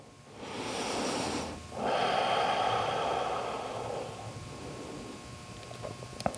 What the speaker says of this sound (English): We'll take 3 more inhales, 3 more exhales.